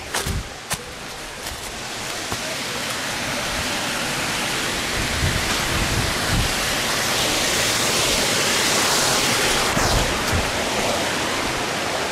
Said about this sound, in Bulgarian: Целият водопад се вижда надолу, направо.